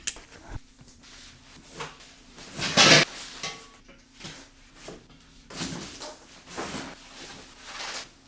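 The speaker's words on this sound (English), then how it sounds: "We are using ball bearing drawer slides." Drawers on ball bearing slides glide open and shut on a professional mobile tool cart, with several short rolling swishes and metallic clunks spaced across the stretch, fairly close, under a faint steady hum.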